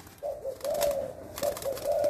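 A Thai spotted dove coos nearby in soft, low, rolling phrases, two repeated cooing calls separated by a brief gap over faint background noise.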